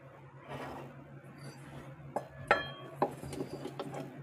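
A metal kadai is set down on a kitchen stove to make sugar syrup for a semolina sweet. A few sharp metallic clanks and knocks ring out over quiet room noise, with no talking.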